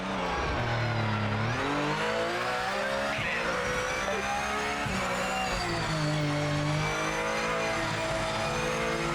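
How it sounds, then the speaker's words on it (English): A race car engine drones continuously in the video game Project Motor Racing, loud and steady with rising and falling pitch as it revs and shifts. "The engine does sound quite good."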